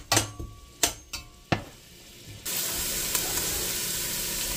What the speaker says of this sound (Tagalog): ipa-fry natin yung ginger